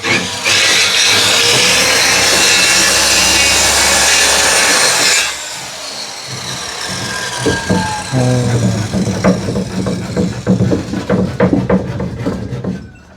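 A loud, steady power saw grinds through wooden door-frame pieces for several seconds, then stops, followed by irregular knocking and scraping of wood pieces.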